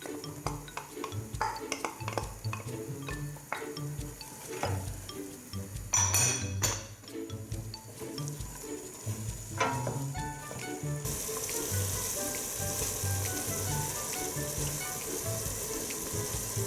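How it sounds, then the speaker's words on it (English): Carrots, onions and other vegetables sautéing in butter in a pot for lasagne alla Bolognese, a low steady sizzle with utensil clinks and scraping, plus a brief burst of running water partway through. "don't you just love the smell of the vegetables sauteing like in that butter"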